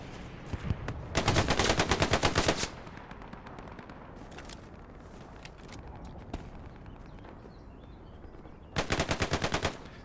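Two bursts of rapid automatic gunfire in the World War II shooter Hell Let Loose at Juno Beach, with scattered lighter shots in between, fairly close and loud.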